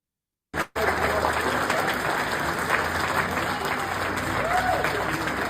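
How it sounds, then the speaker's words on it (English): A rally crowd stands and applauds Marjorie Taylor Greene, dense sustained clapping filling the space after a brief silence, steady and loud throughout with a faint murmur of voices underneath. "So here is the crowd standing in applause for Marjorie Taylor Greene"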